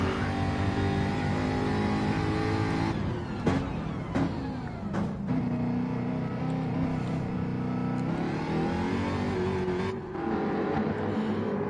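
Race cars pull out of the pits at WeatherTech Raceway, a Jaguar among them, engines droning steadily and loud throughout, with sharper revving bursts and passing surges around the middle and again near the end.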